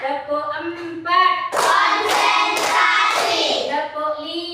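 A classroom of children claps a four-beat rhythm together, sharp bursts of hand claps in a quick group pattern with a teacher's voice and kids' speech before and after.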